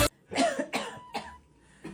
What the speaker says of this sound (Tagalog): Oh, inuubo ka.